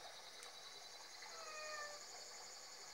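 A cat in Boku no Natsuyasumi 2 gives a few faint, thin meows over a constant hiss of outdoor ambience, quiet and somewhat distant.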